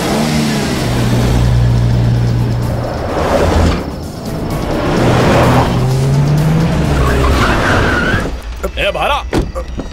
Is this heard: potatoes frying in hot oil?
no